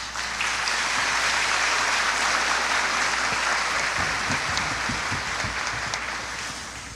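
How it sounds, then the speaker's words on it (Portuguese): Mourners applaud during a Catholic funeral mass in a church, sustained dense clapping that carries through the whole stretch and slowly eases off near the end. "Isso não merece uma salva de palmas."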